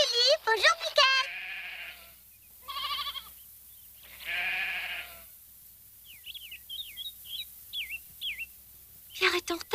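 Goats bleat loudly in a few wavering calls near the listener, separated by quiet gaps, with small birds chirping in a quick series afterward and a voice at the start.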